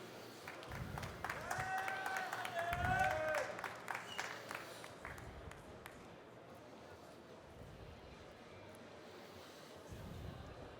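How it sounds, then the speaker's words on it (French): An audience at a French cocktail bartending competition final applauds the bartender, a short burst of clapping and crowd noise under a voice that gradually fades into a quieter room. "On peut l'applaudir, s'il vous plaît"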